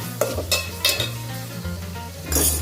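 Tomatoes and potatoes are stirred through a sizzling curry in a pan, with a few sharp scraping strokes of a spoon against the metal over a steady frying hiss.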